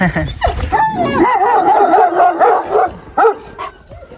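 Several dogs bark and yip in a busy, overlapping burst close by, with whimpering tones mixed in and a short pause before a final bark.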